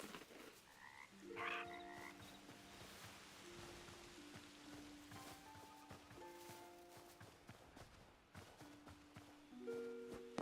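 A frog in the video game Hytale croaks repeatedly, low tonal croaks recurring irregularly over a soft, constant outdoor ambience with faint patter, no talking.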